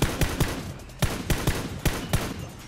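Bursts of gunfire in the video game Battlegrounds, a handful of sharp cracks in quick uneven succession over a few seconds, moderately loud.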